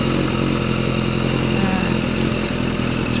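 A 2005 Suzuki Katana 600 motorcycle engine runs loud and close in snow, a steady throbbing drone that holds throughout with no pauses.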